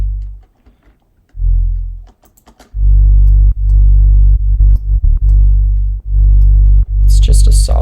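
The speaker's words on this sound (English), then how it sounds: "It's just a saw wave, low pass, some glue compression" Saw-wave synth bass with a low-pass filter and glue compression, in G for a bass music track, plays loud sustained low notes in choppy phrases, ending in a bright noisy burst.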